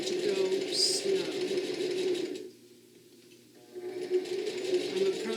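A heavy-duty sewing machine stitches through thick bag fabric with a close, steady mechanical whir that stops briefly midway before starting again.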